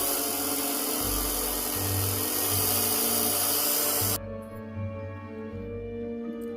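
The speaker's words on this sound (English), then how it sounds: "Here I am drilling the hole for the center." A power drill whines steadily while boring a center hole through plexiglass, loud and close, then cuts off abruptly, leaving a quieter low motor hum.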